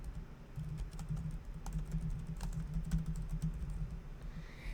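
Quick, light keystrokes on a computer keyboard as a file name is typed, an even run of clicks close and quiet with no talk.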